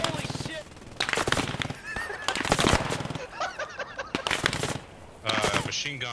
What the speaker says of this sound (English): Machine gun on 45 east.